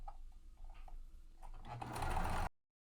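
A sewing machine top stitches along vinyl tote D-ring connectors, a short burst that builds from soft clicks into a louder whirring run before stopping abruptly.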